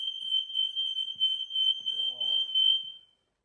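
A smoke alarm beeps in a loud, piercing, rapid pulsing tone, close by, then cuts off abruptly, with a voice speaking briefly under it.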